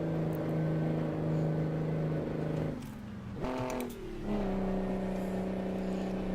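A heavy truck engine in American Truck Simulator bellows deeply on a downshift on a hilly road through Carson National Forest and Philmont, its steady drone dipping and then rising again in pitch as the gear change lands, loud and continuous.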